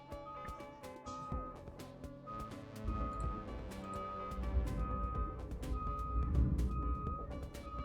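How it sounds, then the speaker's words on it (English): A garbage truck reverses outside on collection day, its backup beeps repeating steadily at a distance over a continuous low engine rumble and background tones. "You can hear the garbage truck."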